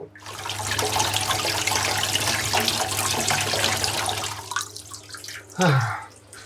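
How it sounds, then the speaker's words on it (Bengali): Freshly cut fish are rinsed under a running kitchen tap, a steady, close splashing gush that eases off near the end, followed by a short burst of sloshing water. "এবার হচ্ছে মাছগুলো পরিষ্কার করে নেব"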